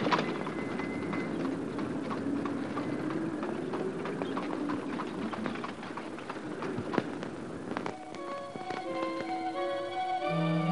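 Hooves of a horse pulling a cart clip-clop at a steady trotting rhythm on a street, a continuous clatter that gives way to music near the end.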